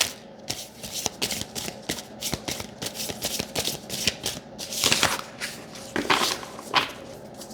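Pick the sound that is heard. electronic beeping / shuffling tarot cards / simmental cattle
shuffling tarot cards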